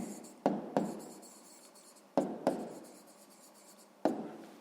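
Pencil writing on paper: scratchy strokes come in short bursts, each opening with a sharp tap and tailing off, three bursts spaced over a few seconds, close and fairly quiet, with no voices.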